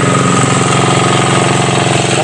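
A diesel engine drives an irrigation water pump on a calamansi farm in the Philippines. It runs loud and close with a steady, dense drone and a faint rapid pulse throughout, with no voices.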